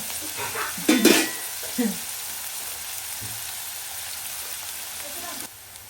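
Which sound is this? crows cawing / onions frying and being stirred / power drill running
onions frying and being stirred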